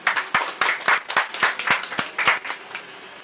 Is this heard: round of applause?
yes